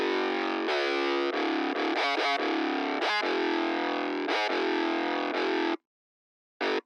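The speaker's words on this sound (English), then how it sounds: "here's what it sounds like with the 808 with the amp sim." Distorted 808 bass run through a Neural DSP amp simulator in a hard trap beat, gritty sustained notes with the low end stripped away, sliding between pitches, then a short gap and one final hit.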